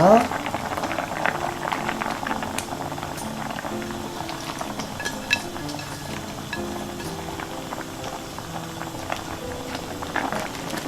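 Tteokbokki broth bubbles in a pan, a continuous close simmering burble with small pops and clicks running throughout, strongest at the start and then settling to an even boil.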